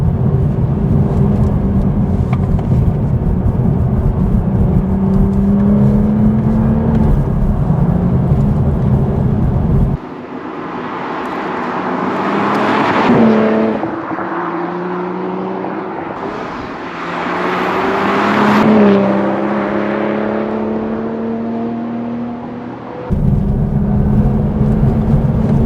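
A 2026 Toyota Supra Final Edition driven hard to warm its tires, the engine droning steadily before surging through two rising revs that climb in pitch and fall away, then settling back into a steady drone.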